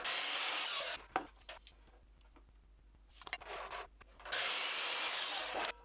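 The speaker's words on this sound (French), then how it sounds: "je vais venir couper cette planche dans les mêmes dimensions que la planchette de soutien" Hand sawing through a wooden board, cut to match a support plank: steady rasping strokes near and loud, stopping for a pause of quieter handling and taps, then resuming.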